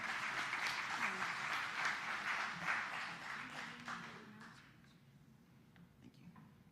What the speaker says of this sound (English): Can you give one more round of applause for Katrina and Osa?